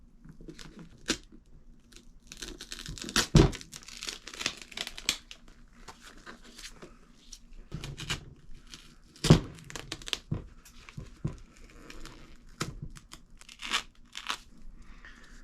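Duct tape is pulled and torn around a boot during a shoe repair, producing scattered crinkling rips and a few sharp loud tearing bursts over quiet pauses.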